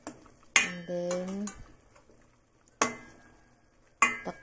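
Metal pot lid clanks as it is set back on a cooking pot of chicken-feet adobo (adobong paa), three sharp clatters with a brief ringing scrape between the first two, then quiet.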